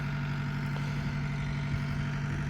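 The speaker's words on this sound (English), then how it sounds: "the old Kubota is idling" An old Kubota engine idles steadily nearby, a constant low rumble with a strong, even hum that holds without change throughout.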